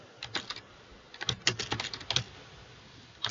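Typing on a computer keyboard, with bursts of quick key clacks separated by brief pauses and one last tap at the end, all close and clear with no voices.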